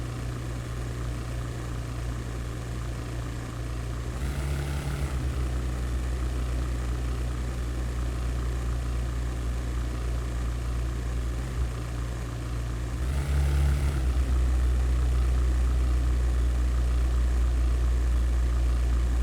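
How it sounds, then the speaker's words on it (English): A propeller aircraft engine in the 1998 flight game European Air War drones steadily at low throttle, with two brief dips in its hum and no talk over it. "According to the sound of the engine, we are flying almost at the neutral speed or neutral speed without any thrust whatsoever"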